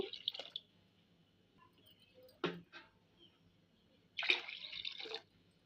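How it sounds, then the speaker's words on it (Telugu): Water is poured into a pot of vegetable khichdi in three short, splashing bursts, close up, with quiet pauses between them. "సో వాటర్ వేసుకుంటున్నాను"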